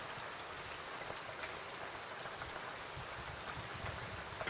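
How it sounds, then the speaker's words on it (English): Heavy rain pours outside at night in Limerick City, Ireland, a dense, steady hiss of drops on surfaces with no breaks and no voices, moderately quiet as if heard from indoors. "it's just teeming rain outside here"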